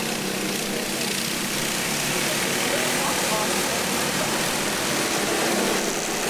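Backyard go-kart engines roar at the start of a heat race on a track, a dense continuous buzz of several small motors at full throttle, loud and steady, with a commentator's voice running over it.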